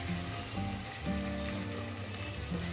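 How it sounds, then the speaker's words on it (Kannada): Onion, green chilli and curry leaves fry in a pan, a steady close hiss of sizzling oil that carries evenly throughout, with no one talking. "ಈಗ ಕಟ್ ಮಾಡಿರೋ ಈರುಳ್ಳಿ ಹಾಕ್ತೀನಿ ಈರುಳ್ಳಿ ಹಸಿಮೆಣಸಿನಕಾಯಿ ಎಲ್ಲ ಜೊತೆಲೆ ಹಾಕ್ತೀನಿ ಕರಿಬೇವು ಕಂದು ಬಣ್ಣ ಬರುವವರೆಗೆ ಫ್ರೈ"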